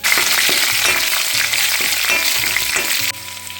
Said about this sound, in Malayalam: ഇനി ഇതിലേക്ക് എരിവിനാവശ്യമായ പച്ചമുളക് ഇട്ട് കൊടുക്കാം